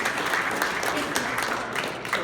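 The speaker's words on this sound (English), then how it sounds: "So let's give a big round of applause to all of them." Audience applause at an engineering graduation ceremony, a dense, steady wash of many hands clapping throughout without pause.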